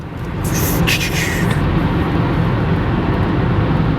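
A car engine fitted with an aftermarket pod air filter revs hard, giving a loud, steady, turbo-like roar and whoosh that builds within the first half-second and holds close by.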